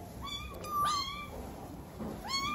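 A small kitten meows indoors, two or three thin rising mews spaced across a couple of seconds, close and fairly quiet over low room noise.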